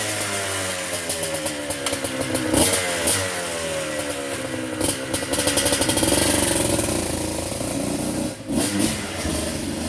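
A two-stroke dirt bike engine, such as a Suzuki RM500 or Kawasaki KX500, runs loud and close, with a buzzing idle rising into revving blips and one brief dip in throttle.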